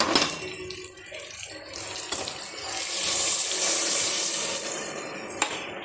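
Water is poured from a tumbler into a pot of rice and mutton for biryani, a splashing, gurgling pour that swells in the middle amid some scraping and clatter.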